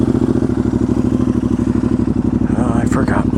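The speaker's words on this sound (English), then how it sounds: "Turn on this motorcycle." A Royal Enfield Interceptor 650 motorcycle engine fires up and runs with a steady, close, loud chugging idle throughout, a brief higher rattle near the end.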